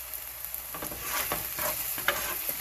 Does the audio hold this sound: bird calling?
no